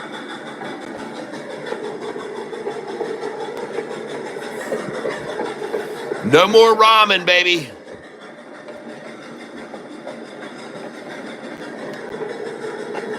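A train passes in a burst of rumbling, clattering noise lasting about a second amid a steady engine-like drone, with someone talking over it.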